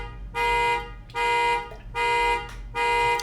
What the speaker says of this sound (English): Is this dude's alarm going to go off the whole time?